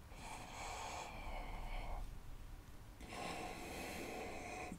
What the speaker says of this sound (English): Take a deep breath in here.